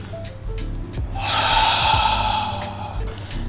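Heavy breaths in and out during a mobility workout, a long audible exhale swelling in the middle with short nasal sniffs around it, close and alone with no talk.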